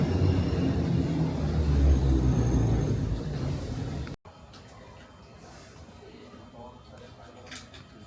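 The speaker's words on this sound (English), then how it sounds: "here's our first look at a underground train here in Istanbul," An underground metro train in Budapest rumbles loudly with a low roar for several seconds, then the sound cuts abruptly to a quieter station or carriage ambience, with a voice talking throughout.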